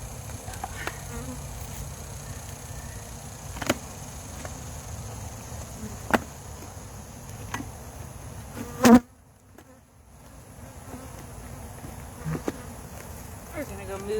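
Honey bees drone and buzz around an open hive during an inspection, a steady insect hum with sharp clicks and knocks from handling equipment, followed by a short quieter lull.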